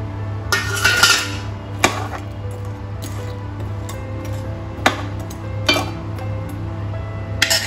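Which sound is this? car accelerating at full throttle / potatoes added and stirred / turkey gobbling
potatoes added and stirred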